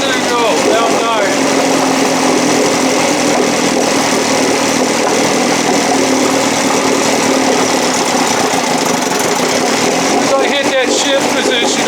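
An Evinrude 7.5 outboard motor idles, a steady mid-pitched running drone with a faint knocking rhythm, loud and close throughout, roughening slightly near the end.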